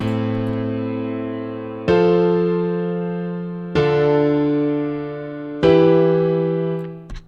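Synthesized triad chords layered with a deep bass doubling the root notes, four chords each held roughly two seconds and fading slowly, full and close with a strong low end, no talking.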